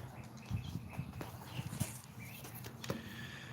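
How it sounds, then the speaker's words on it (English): A donkey's hooves clip-clop in an uneven, steady walk on a casual ride past the Boot Hill cemetery entrance in Tombstone, with soft clops over faint outdoor background noise. "Just taking a ride on a donkey."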